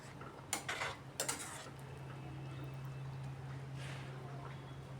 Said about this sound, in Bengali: ঢাকাটা উঠিয়ে এখন আরেকবার নাড়াচাড়া করে দিচ্ছি